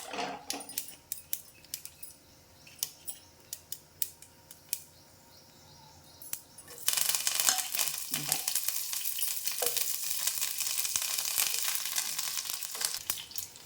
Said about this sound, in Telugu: చూడండి ఆయిల్ హీట్ ఎక్కింది, ఆవాలు వేసేసుకున్నాం.